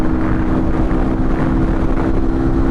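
A CF Moto RX3i Evo motorcycle engine drones steadily and loudly at high revs near top speed, with a constant pitch, mixed with rushing headwind noise.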